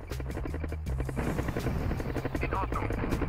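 Helicopter rotor chopping in the PlayStation 1 game Command & Conquer Red Alert, a steady rhythmic whir layered with explosions and game effects while someone talks over it.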